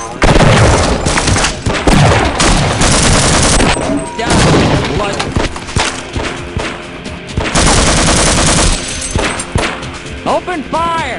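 Loud, sustained bursts of rapid gunfire at a target range in the game Half-Life: Ature, with dense automatic fire and crashing impacts in two main volleys.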